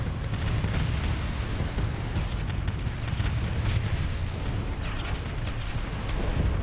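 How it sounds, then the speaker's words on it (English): Missiles explode during a space battle in a video game, giving continuous loud rumbling blasts and crackling bursts that blend into one another. "Missiles."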